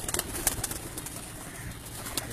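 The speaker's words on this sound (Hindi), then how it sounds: "ये लाल परी कबूतरों में से बना हुआ कबूतर है" Lal Pari pigeon on a rooftop loft, soft low cooing mixed with faint rustles and a few sharp clicks, fairly close against a steady outdoor hiss.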